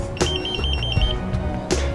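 A Draeger X-Zone 5000 portable gas detector alarm emits a rapid series of high, evenly spaced beeps, fairly close, with a couple of mechanical clicks around it.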